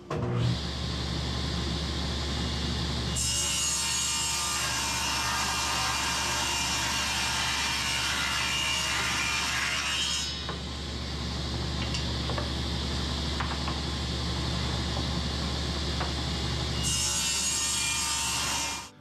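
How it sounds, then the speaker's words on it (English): Table saw with a fence set for 2-inch strips, ripping wood for a computer table top: a loud, steady motor whine runs throughout, with the blade's harsher cutting roar swelling in and out as each strip passes through. "Okay, I have my fence set at 2 inches. We're going to cut these into strips."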